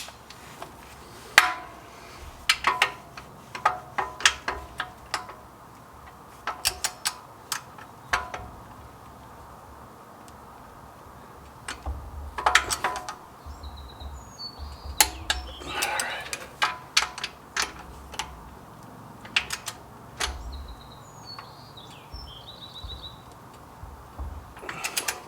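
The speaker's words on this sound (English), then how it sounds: "let's go get the torque wrench and get that all finished up." Socket and torque wrench clicking and ratcheting while tightening oil pan bolts on a Jeep JK, a series of sharp, close metallic clicks and clanks in irregular bursts over quiet garage background.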